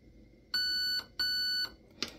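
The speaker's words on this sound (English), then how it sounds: "That beep now means that is programmed." A Raven Evolution Furion ETU electronic trigger unit gives two clear, sustained electronic beeps of equal length with a short gap between them, followed by a brief click.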